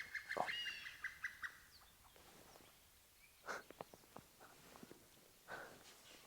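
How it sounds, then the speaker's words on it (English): A spur fowl in Bandhavgarh National Park gives a distress call at dawn, a few sharp, faint bird calls early on, then quiet scattered rustles and soft footstep-like knocks with brief later chirps, no talking. "the distress call of a spur fowl"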